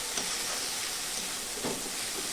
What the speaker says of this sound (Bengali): এই মশলাটা দিয়েও আমি একটু ভালো করে কষিয়ে নেব।